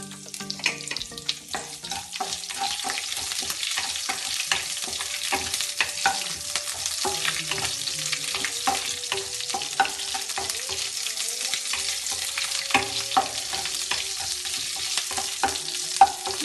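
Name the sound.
chopped green chillies frying in a pan for fish curry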